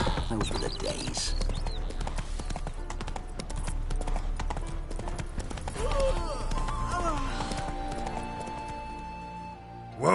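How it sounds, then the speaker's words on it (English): A horse gallops in The Witcher 3 video game, its hooves clip-clopping steadily and loudly over a background of game music and sound. Voices talk over it, and near the end the horse neighs. "Whoa there, Roach."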